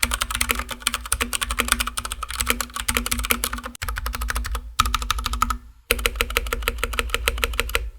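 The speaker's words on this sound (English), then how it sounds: "It feels exactly how you would expect Cherry MX switches to feel on a solid, sturdy keyboard base" Fast, crisp clicking of a Matrix Elite Series 60% mechanical keyboard with Cherry MX switches, rapid keystrokes in bursts with two brief pauses, heard up close.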